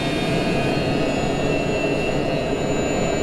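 Boeing 727 jet engines spooling at takeoff thrust in a cockpit flight simulator, a loud, steady broadband roar with a high whine, continuous throughout.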